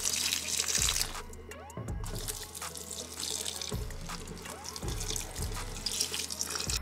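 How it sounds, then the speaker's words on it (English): Water running and splashing as plants in a terrarium corner are watered at a plant shop, with a steady flow broken by several distinct drips and splashes, close and moderately loud with no talking. "So I'm gonna try to water this at least in that corner a bit more"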